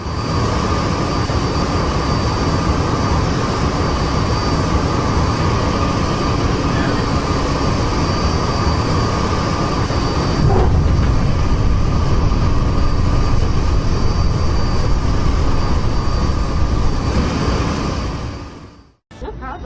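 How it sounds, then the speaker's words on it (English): A large new passenger airplane approaching to land at an airport gives a loud, steady broadband roar that holds for nearly twenty seconds, then cuts off sharply at the end, with faint voices underneath. "this new plane that is about to land at the"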